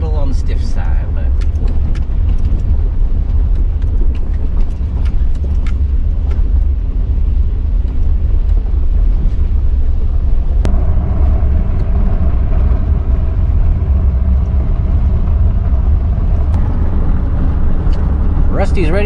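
A 1993 Chevy K3500 dually 4x4 truck drives along with a loud, steady engine drone and road rumble from inside the cab, and a voice talks over it.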